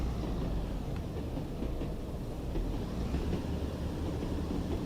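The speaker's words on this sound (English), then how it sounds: "You can hear the gear changes." A diesel train in the video game Train Sim World 2 on the Tees Valley Line hums and rumbles at a steady level, fairly faint, with a few light clicks and no clear gear-change moments.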